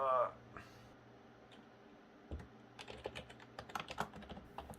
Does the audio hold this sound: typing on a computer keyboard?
yes